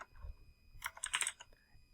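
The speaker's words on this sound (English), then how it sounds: "Now I'm going in here and typing in my answer." Quick bursts of typing on a computer keyboard as an answer is entered, soft clustered key clicks up close in a quiet room.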